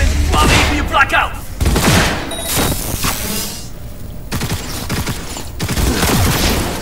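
Heavy gunfire in Cyberpunk 2077: loud, rapid bursts of shots and booming blasts in close succession, broken by brief pauses and mechanical clatter.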